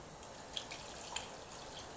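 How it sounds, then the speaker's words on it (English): Tap water streams steadily from a kitchen faucet, a soft continuous hiss and splash with a few faint drips over the two seconds, heard alone without talk. "We're just going to use tap water."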